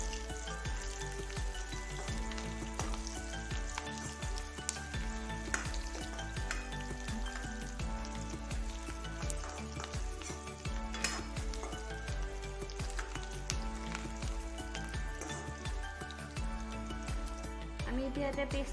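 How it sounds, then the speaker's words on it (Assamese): Onions frying in oil in a wok with cloves and cardamom for a pointed gourd and mung dal curry, a steady close sizzle running throughout under a dense busy background, with occasional faint clinks. "এতিয়া ভালদৰে এইখিনি পিয়াজখিনি ৰঙচুৱা হোৱাকৈ ভাজিলে হ'ল।"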